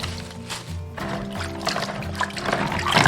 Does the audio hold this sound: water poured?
yes